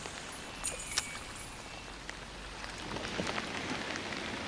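Rain falling on a river surface during a night of fishing for catfish, a steady hiss of drops with a few sharper patters, even and continuous with no talk.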